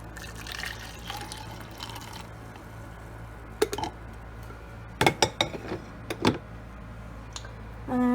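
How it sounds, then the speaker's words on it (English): Brewed coffee is poured into a little cup, a soft trickle faint under room noise, followed by several sharp clinks and knocks of cup and utensils near the end. "pour it in a little cup."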